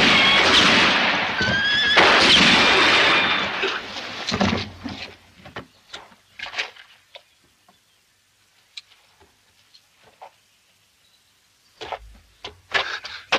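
A horse gives a loud, drawn-out neigh up close, followed by scattered clip-clop hoof steps and knocks against wood that thin out into near silence.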